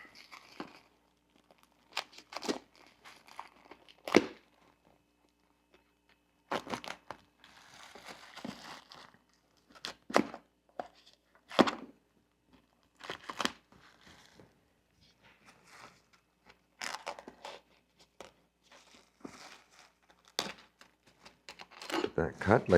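Material for an ATV seat cover being cut and handled: sporadic crinkling and tearing rustles, close and fairly quiet, scattered between pauses, with someone talking intermittently.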